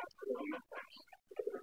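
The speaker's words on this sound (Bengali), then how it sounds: "এই যে মাশাআল্লাহ বিশাল বড় সিরাজি কবুতর" A large Sirazi pigeon coos in short soft bursts near the listener, with low rounded calls broken by brief pauses across a pigeon loft.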